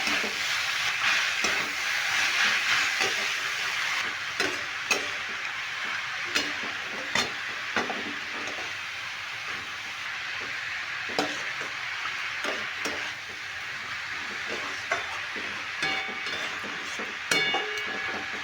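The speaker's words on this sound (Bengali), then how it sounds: "কুমড়োগুলো দিয়েও ভালো করে মশলার সঙ্গে কষি নেব" Pumpkin pieces stir-fry with spices in a pan, giving a continuous close sizzle under frequent sharp clicks and scrapes of the spatula against the metal.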